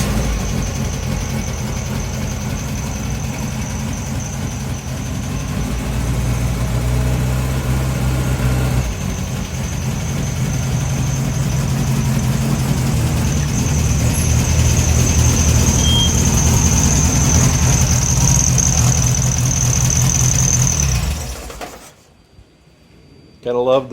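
A car engine idles rich on a cold day, a steady low rumble running for about twenty seconds before it cuts off abruptly, with a faint high whine riding over it.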